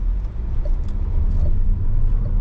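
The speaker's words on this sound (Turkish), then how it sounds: "Motor güzel bağırıyor arkadaşlar. Gerçekten kükrüyor." Renault Austral 1.3 mild hybrid engine in sport mode during a 0-100 acceleration run, a steady loud low rumble with road noise, no talking.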